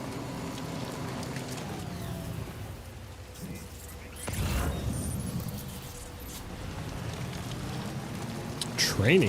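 Steady rainfall in the video game Death Stranding 2, a continuous hiss of rain on surfaces that swells briefly midway, with a louder burst near the end.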